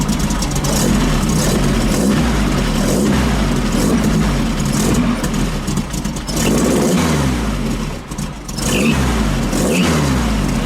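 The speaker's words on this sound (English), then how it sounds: "Belt slipping. You hear the squeal." A 1915cc VW Manx buggy engine runs continuously and revs, loud and close, with a rough mid-range drone; a slipping belt's squeal blends into the engine noise.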